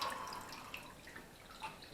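Water running through a homebrew beer wort chiller, a soft, continuous trickle with faint drips and splashes, quiet and close, with no voices.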